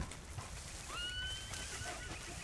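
Horse whinnying in the Red Dead Online video game, a short, faint, high rising neigh against a broad noisy outdoor background, with no talking.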